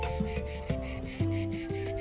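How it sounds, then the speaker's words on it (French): Cicadas stridulate in jungle grass in a steady, pulsing high buzz, layered over musical tones underneath. "Dans les hautes herbes, les cigales commencent leur stridulation"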